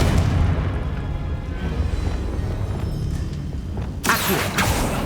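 Confringo blasting spell explosions in the video game Hogwarts Legacy, a loud continuous rumbling boom with a sharper burst near the end.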